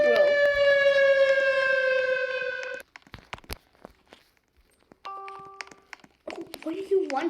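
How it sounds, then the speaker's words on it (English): An electronic tornado siren in Roblox Brookhaven blares as a loud harmonic tone, cuts off, then sounds again in a short shorter burst, with clicks, thuds and footsteps between. "Now it looks like a siren."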